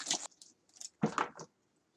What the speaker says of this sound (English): Rip this open.